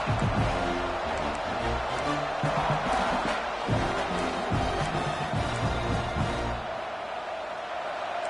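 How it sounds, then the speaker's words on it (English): Stadium crowd roars for the defense at a Georgia vs Clemson college football game as the opponents sit near the goal line, a loud sustained wall of cheering and yelling that eases slightly toward the end. "And the crowd coming to life here, trying to help this defense down in the red zone."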